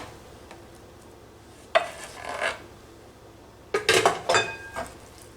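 Cooked sushi rice scraped and pushed from one container into another with a rice paddle, two short bursts of close scraping and knocking against the containers between quiet gaps.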